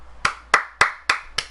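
Five crisp hand claps in an even, steady rhythm, close and clear with no talking.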